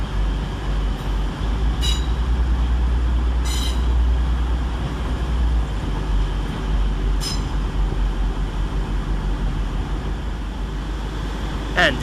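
Train unit 185102 moving through Sheffield railway station along the centre road, giving a steady low rumble throughout with a few high metallic squeals and clinks from the wheels and track.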